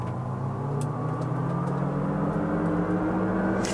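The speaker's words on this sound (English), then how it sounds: "that propulsion sound, I think you'd get used to it, but it doesn't make your ride feel very quiet" A 2024 GMC Hummer EV SUV's electric propulsion sound while driving: a steady, droning motor hum with layered whining tones, constant and fairly loud inside the cabin.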